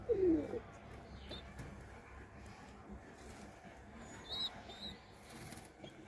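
Pigeons in a home loft of local desi birds coo softly at close range, with low murmuring calls spread across a few seconds and a brief louder note near the start.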